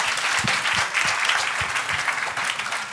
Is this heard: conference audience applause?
yes